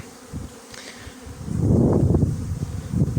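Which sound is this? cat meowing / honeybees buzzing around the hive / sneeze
honeybees buzzing around the hive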